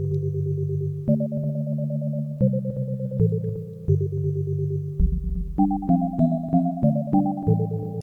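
Synthesizer notes from a Woovebox stepping through a melodic pattern, tones pulsing and wobbling with steady LFO modulation; low bass joins midway and the rhythm tightens toward the end.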